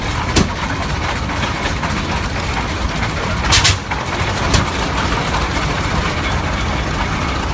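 Antique 1912 Hart-Parr 30-60 tractor engine running in a steam threshing show parade, a loud steady low rumble throughout, with a few sharp clanks or bursts rising above it.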